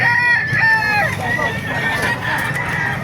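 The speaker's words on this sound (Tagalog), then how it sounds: "Maraming manok kayo dito sa Bukawi." Roosters crow and chickens cluck at a busy poultry market in Bocaue, with several loud, close crows and clucks over a background of crowd chatter and talk.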